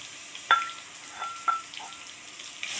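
Crushed garlic fries in hot oil in a wok, with a steady soft sizzle and a few sharper spits and crackles rising at intervals, close and moderately loud with no talking.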